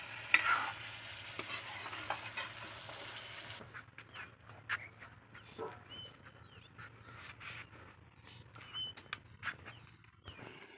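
Goat brain frying in a pan, cooked Assamese style outdoors near a pond, with repeated scraping stirs and a soft sizzle under faint outdoor ambience, the loudest frying at the start.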